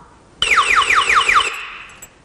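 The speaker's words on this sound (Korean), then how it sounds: "이 경보음은 볼륨 조정이 안 되게끔 설계되어 있어서 무조건 최대치로 음량이 나타나기 때문에 도난 방지에 좀 효과적입니다" An anti-theft alarm on a product, which triggers when the unit is tilted past 45 degrees or carried off, blares at fixed maximum volume: a loud, repeating electronic siren of rapid sweeping tones lasting about a second, then cutting off.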